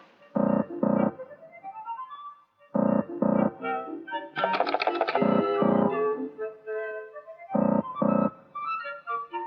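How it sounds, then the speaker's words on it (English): A telephone ringing tone repeats in double bursts, four times with pauses between, and other tonal sounds fill the gaps. "Now you hear the ringing tone, which synchronizes with the ringing in the house of the distant subscriber."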